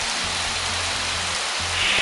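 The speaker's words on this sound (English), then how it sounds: "That's right, a pop-up thunderstorm." Steady rain from a small, very local pop-up thunderstorm pours down in a dense, even hiss that holds constant throughout, with a low rumble underneath and no voices.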